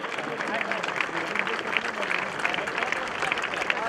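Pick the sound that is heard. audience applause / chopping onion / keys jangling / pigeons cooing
audience applause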